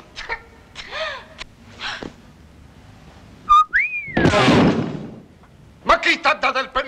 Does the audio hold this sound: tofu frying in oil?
no